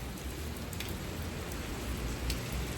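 Steady early-morning rain in Balneário Camboriú, a dense continuous hiss of drops falling on surfaces with no break or change in level, and no voices.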